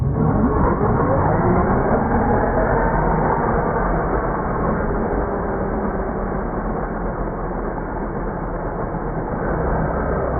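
A Traxxas X-Maxx RC monster truck fitted with modified 25/30 gears runs steadily, giving a continuous, fairly loud motor and drivetrain whine with gear noise that holds roughly even throughout, with no talking.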